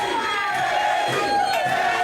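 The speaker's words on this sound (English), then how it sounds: "And the crowd going wild for Benny!" A wrestling event crowd cheering and roaring continuously at full volume, a dense wall of shouting voices filling the arena with no pauses.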